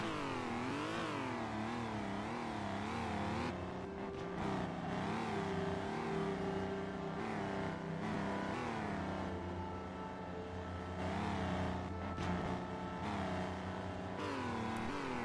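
A car engine in the zombie survival game HumanitZ revs loudly again and again, its pitch rising and falling in repeated wavering surges, with no talking.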